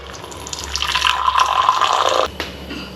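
Freshly brewed black tea strained and poured from a pan, a close, loud liquid stream that runs for about two seconds and then stops, no talking.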